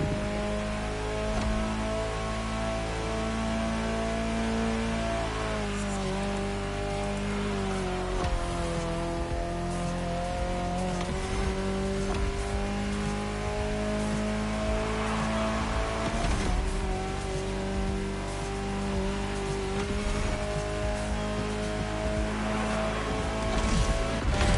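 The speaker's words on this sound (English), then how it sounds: "Incredible to see this stunning concept car in action. This is the hydrogen-powered Alpenblow High 6" Hydrogen-powered Alpine concept car in the Motorfest racing game, its engine droning steadily with shifting revs, rising and falling pitch through gear changes, continuous and fairly loud with no talk.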